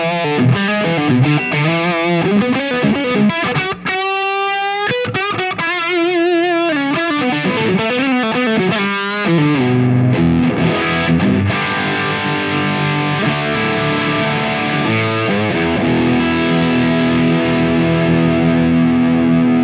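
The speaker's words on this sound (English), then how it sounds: "An example of a pedal using FETs in this way would be our Plexi Drive." An electric guitar runs through a Plexi Drive FET overdrive pedal, first in fast distorted lead runs and bends, then settling into sustained gritty chords that ring out, loud and close with no talking.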